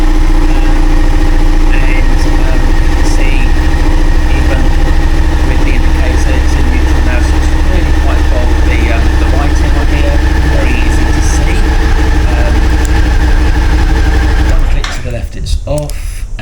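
A Suzuki SV650 motorcycle idles close by, a loud steady rumbling twin-cylinder throb that carries on evenly for about fifteen seconds before the engine note drops away near the end.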